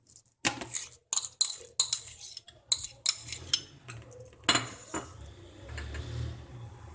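Spoon clacking against a bowl while mixing mashed potato, black pepper, salt, chaat masala and chopped vegetables for crispy vegetable nuggets, a run of sharp, close taps and scrapes at an uneven rhythm with no talk.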